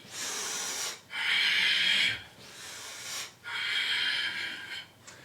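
Forceful, rhythmic breaths during a yoga breathing exercise, close and hissing, three long airy exhalation bursts separated by brief pauses, with no talking.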